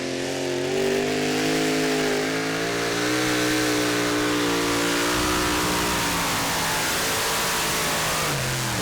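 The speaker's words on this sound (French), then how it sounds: "C'est un tir quasi parfait, le tracteur ne descend quasiment pas." A V12 engine on a competition pulling tractor at a European tractor pull roars loudly and steadily under heavy load, a dense, sustained howl that barely wavers for nearly nine seconds.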